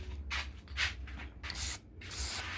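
A spray can mists black Plasti Dip onto a car in four hissing bursts of roughly half a second each, separated by short pauses, close and fairly loud over a low background hum.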